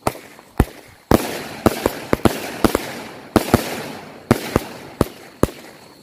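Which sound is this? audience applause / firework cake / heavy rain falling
firework cake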